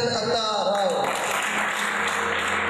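At a talent hunt expo in Naushahro Feroze, the audience applauds to welcome a motivational speaker, with steady crowd clapping rising out of a brief voice and carrying on loud and even to the end.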